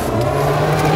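Rally car on a gravel stage at the Concord Pond stage of the 2012 New England Forest Rally, its engine a steady loud drone with a strong low hum throughout the short moment, no voices.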